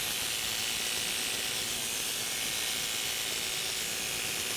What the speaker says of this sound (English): If your clippers get too hot, you can switch them out for a cool pair of clippers, or you can use some spray lubricant